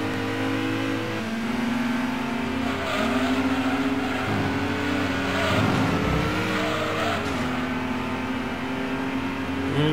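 A Lister race car engine in the Gran Turismo 2 video game, a sluggish car lacking power, drones loudly and steadily with rising and falling revs, sometimes with a tire squeal or skid.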